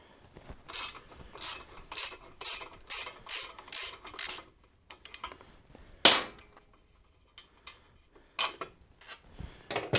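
A ratchet wrench clicks in quick bursts as fender bolts come off a Harley-Davidson Sportster motorcycle, close and crisp, with a loud metallic clank in the middle followed by a pause and more short runs of ratcheting.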